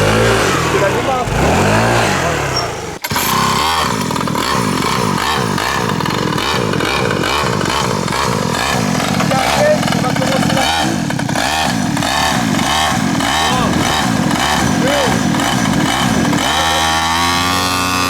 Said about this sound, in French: Démarrer un X-Max, c'est beaucoup plus simple.